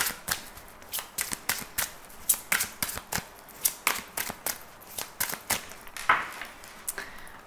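Tarot cards are shuffled and cut by hand in a steady run of crisp, papery riffles and soft slaps, close and fairly quiet, with no talking.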